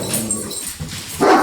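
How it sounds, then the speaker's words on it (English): A household dog barks and yips close by, a loud burst of barking with whimpering yelps, the sharpest bark landing at the very end. "sorry about that, that was my dog."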